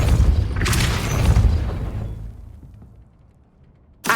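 A Depulso spell cast in Hogwarts Legacy, a loud booming whoosh-blast that decays over about two seconds into quiet, followed by a short sharp burst at the end.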